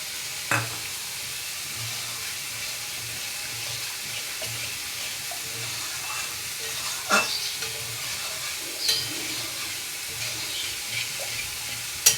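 Raw banana kofta masala sautés in a pan with a soft, steady sizzle. A spoon stirs it from time to time, and the occasional scrape or knock stands out from the frying hiss.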